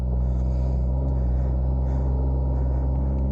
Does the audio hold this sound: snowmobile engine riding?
yes